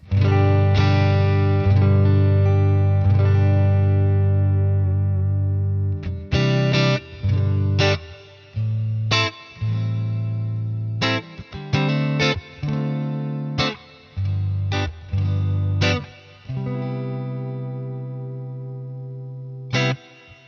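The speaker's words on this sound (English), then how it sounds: "So the neck pickup sounds like this." Heavily distorted electric guitar on the neck pickup, with a warm, thick tone, plays sustained chords followed by choppy, stop-start strums, with effects adding a swirling, echoing sheen.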